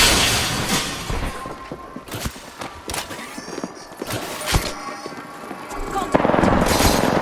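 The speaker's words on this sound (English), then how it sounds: "I shoot." Gunfire from a weapon in Apex Legends, several sharp loud shots with booming impacts amid game effects, a voice speaking briefly.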